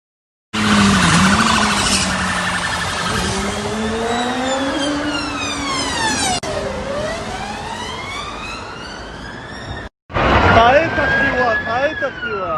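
Police siren wailing and sweeping up and down, loud and close, at a road-rage car crash scene, with traffic noise beneath, a brief cut, then the siren resuming.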